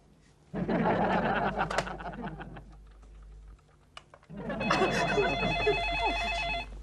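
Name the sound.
telephone ringing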